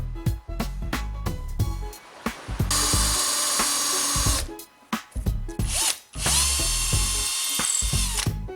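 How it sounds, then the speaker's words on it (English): A drill press bores a hole for a homemade guitar repair vise, its motor whining in two long, steady passes separated by clicks, knocks and handling noises close by. "I have to drill the hole on the drill press"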